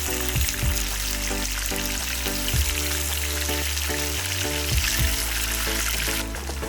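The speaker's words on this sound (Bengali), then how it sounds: "গরুর মাংসের স্লাইসগুলো আমি এক এক সাইড 3 থেকে 4 মিনিট করে ভেজে নিব" Beef slices fry in a pan with a steady, loud sizzle that fills the whole stretch, and a few clinks are heard. No one speaks.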